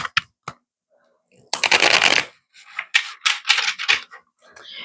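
Tarot cards being shuffled by hand in a few crisp riffling bursts, one long dense flurry followed by shorter rapid riffles, close and clear with no talking.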